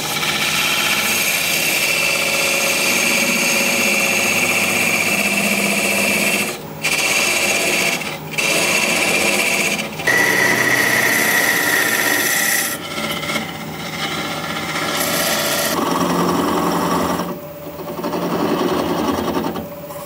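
A chisel undercuts a Russian olive spindle spinning on a wood lathe, giving a continuous raspy scraping whir that pauses briefly several times and changes tone as the cut goes on.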